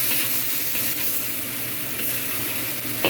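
Meat stir-frying in cooking oil, a steady close sizzle with scraping stirs now and then, alone with no talk.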